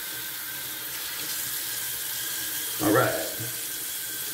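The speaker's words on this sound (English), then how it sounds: "I'm just rinsing off the puck here." Running tap water rinses a Tabac shave soap puck, a steady close hiss with a brief louder splash partway through, and someone speaks briefly.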